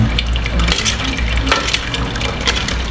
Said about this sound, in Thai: มาเทน้ำใส่หม้อกอง